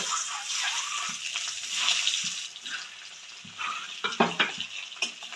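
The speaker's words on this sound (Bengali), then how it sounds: "ডিমের মধ্যে একটু লবণ একটু হলুদ দিয়ে মেখে নিয়েছি এবার ডিমটা ভেজে নেব" Egg seasoned with salt and turmeric frying in hot oil in a wok, a steady close sizzle with a few clattering stirs and scrapes near the end.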